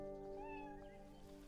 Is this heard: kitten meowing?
yes